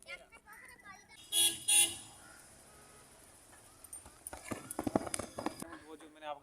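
A ridden horse's hooves clip-clop in a quick, uneven rhythm that grows busier toward the end, with voices in the background and a couple of brief tonal toots earlier on.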